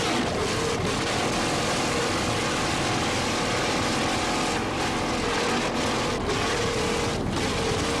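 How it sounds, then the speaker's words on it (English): Offshore racing powerboats at the 1986 Islamorada Budweiser 100 in the Florida Keys, engines roaring loudly in a dense, continuous drone with no pauses. "You can just hear the noise that United Engines are putting out right now"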